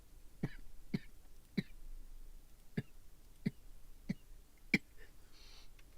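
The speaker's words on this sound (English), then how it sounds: "I coughed." A person coughs seven times in short, sharp bursts spaced about half a second to a second apart, fairly close and loud against a quiet room, with no talking.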